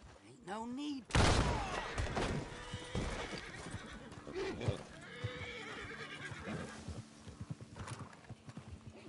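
In a video game, a horse whinnies loudly and clip-clops while being ridden, with a sharp thump and scattered hoof and effect sounds following; a voice speaks over parts of it.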